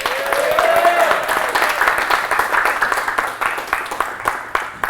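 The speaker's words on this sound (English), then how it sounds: "everyone give a round of applause for Reid" A crowd applauds a guest on stage, dense clapping that starts full, with a voice briefly over it at the start, then thins into scattered claps.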